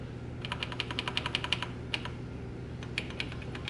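Typing on the keyboard of a 1983 Radio Shack Tandy TRS-80 Model 100 portable computer, a run of crisp, close key clicks in quick bursts with short pauses, over faint room hum.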